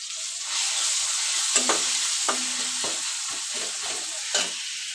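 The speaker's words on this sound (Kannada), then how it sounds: "ಟೊಮೆಟೊ ಈ ಥರ ಮೆತ್ತಗಾಗಬೇಕು ಫುಲ್ಲು ಟೊಮೆಟೊ ಅಲ್ಲಿವರೆಗೂ ಫ್ರೈ ಮಾಡಬೇಕು" Tomatoes frying with turmeric in a pan, with a continuous close sizzle and a few distinct clinks and scrapes of a spoon stirring against the pan, no talking.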